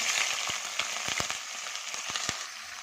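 Beans drop into a hot oil pan already holding cashews and mustard seeds for masala uppittu, raising a steady close sizzle punctuated by sharp popping crackles, with no talking.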